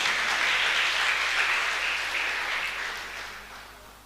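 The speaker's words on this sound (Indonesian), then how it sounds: "Tepuk tangan dulu buat Tuhan yang baik." A church congregation at a Pentecostal Sunday service applauds, a dense wash of clapping heard from a moderate distance that gradually fades.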